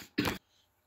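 A single short, harsh cough from a person who has been ill, close to the microphone, followed by quiet.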